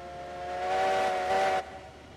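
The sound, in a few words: steam locomotive whistle, Heisler engine in video game Railroads Online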